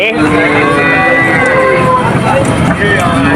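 Cows and cattle low and moo at the Atharo Mile cattle market, with sustained tonal calls rising over a steady din of crowd babble and market noise.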